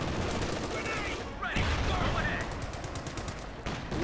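An MP40 submachine gun fires in Company of Heroes 2, sustained rapid bursts mixed with other battlefield gunfire, while a voice talks continuously over the shooting.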